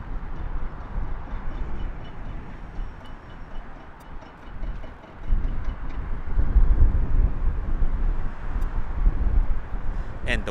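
Wind buffeting an outdoor microphone at an airport plane-spotting spot, a continuous low rumbling roar that swells louder midway and stays heavy to the end, with no talk over it.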